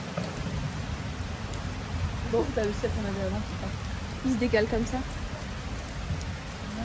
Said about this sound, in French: C'est juste qu'il y a de la pluie, quoi.